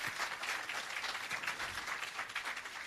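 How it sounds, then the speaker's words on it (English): An audience at the commissioning of the Parnassus irrigation system in Jamaica gives another round of applause for the Prime Minister, a dense, even wash of clapping that holds steady throughout. "And you can give another round of applause for that"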